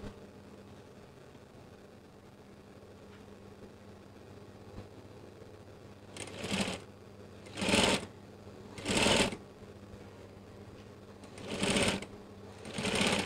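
Short bursts of sewing machine stitching run along the edge of curtain skirt fabric, four or five separate runs close by after a quiet stretch.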